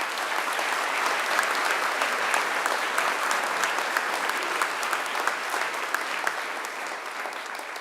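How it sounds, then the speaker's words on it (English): Guests at a Macquarie University graduation ceremony receive a big round of applause: dense, steady clapping from a large audience that carries evenly from start to finish with no speech over it. "Let's give all our guests a big round of applause"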